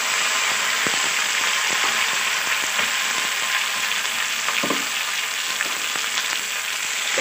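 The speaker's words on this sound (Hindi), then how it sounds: "अब हम इसमें टमाटर डाल दे रहे हैं।" Chopped tomatoes fry in a pan for egg bhujia, giving a steady, even sizzle with faint scrapes and taps of stirring, alone and close throughout.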